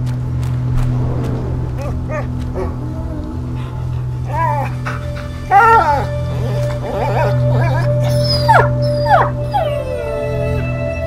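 A dog in the video game A Plague Tale: Innocence howls and whimpers in a series of rising, wavering cries over a low steady hum, with voices speaking between the calls.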